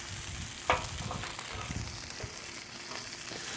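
Pork chops sizzle steadily in a hot pan, a continuous close frying hiss with a sharp clack of the pan or tongs near the start as a chop is flipped, with no talking.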